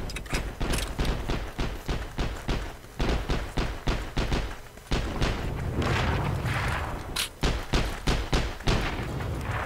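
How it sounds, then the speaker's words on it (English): Rapid gunfire and booming grenade explosions in the Heroes & Generals shooter game, dense repeated shots in quick bursts with heavy thuds and rumbling blasts, loud and continuous without speech. "Oh god, grenades everywhere."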